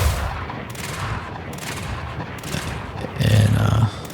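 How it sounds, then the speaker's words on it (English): Spaceship cannons fire in the video game Star Citizen on an RSI Meteor medium fighter, a burst of rapid shots near the end following fainter rumbling, with no talk. "So the first time you pull, the cannons will fire."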